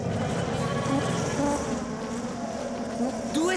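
A mysterious buzzing in a dark cartoon scene: a wavering insect-like drone with rising and falling pitch sweeps over a low background hum, fairly quiet and without speech.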